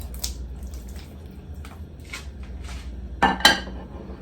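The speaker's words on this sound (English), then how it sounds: "Let's add our perfectly cooked fluffy ravioli to the pan." Cooked ravioli slide into a pan of sauce with soft squelching and clatter, ending in two sharp metallic knocks of a utensil against the pan.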